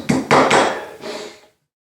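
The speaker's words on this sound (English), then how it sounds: "We're going to peen them over." Hammer peening rivets over on a transmission drum: a quick series of four sharp metallic strikes, close and loud, the last one lighter, then silence.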